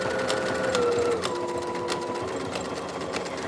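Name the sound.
sewing machine sewing fabric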